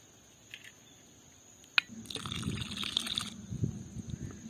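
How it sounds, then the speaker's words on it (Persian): Lukewarm water is poured gradually into a bowl of flour mixed with yeast, sugar, yogurt and egg, giving a soft, close trickle that starts after a brief tap and continues unevenly in quiet splashes. "آب ولرم رو کم کم بهش اضافه میکنم."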